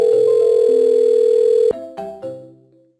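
A telephone line gives a steady dial tone during a call, then cuts off into a few short, decaying tones at the end, clear and close with no one speaking.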